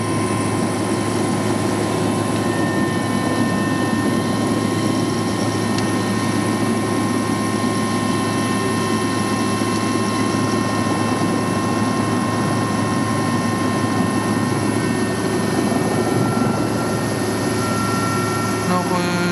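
A small aircraft, likely a helicopter on a sightseeing tour around Réunion island from Saint-Gilles, thrums with a loud, steady engine and rotor drone that holds unbroken throughout.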